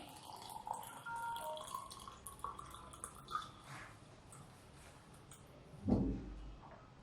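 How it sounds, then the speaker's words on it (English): Water poured onto soil at home, faint and quiet, with a soft trickle and a brief splash near the end. "So I will add the water to this soil."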